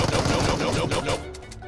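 Pistol fire in PUBG Mobile, a rapid burst of several close, punchy gunshots in quick succession, then a brief tail as the shooting stops.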